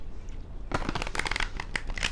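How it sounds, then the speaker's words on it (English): Angel cards shuffled by hand close up, a quick burst of papery riffling and slapping strokes after a short quiet start. "I've been sitting here for about 10 or 15 minutes, shuffling."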